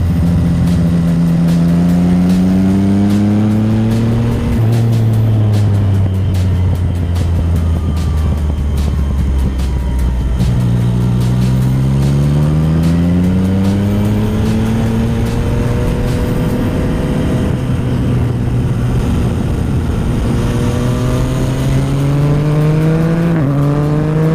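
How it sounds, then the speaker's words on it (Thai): A Yamaha MT-09 motorcycle with a modified exhaust accelerates hard in repeated rising revs through the gears, loud and close, with faint crackles in between. "ตอนเปิดคันเร่งนี่โอ้เสียงอย่าง สี่สูบ เสียงหวานหวาน แต่ว่าเวลาเปิดคันเร่งก็มีเสียงตดปุ้งปั้งมากนะ"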